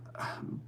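A single short sneeze bursts out close by in a quiet room, over a low steady hum.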